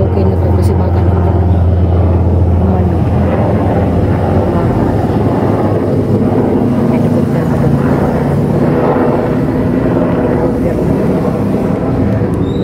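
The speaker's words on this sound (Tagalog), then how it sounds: "May helicopter dumaan guys." A helicopter passes overhead outdoors near a garden, its loud, continuous rotor and engine rumble filling the whole stretch without fading.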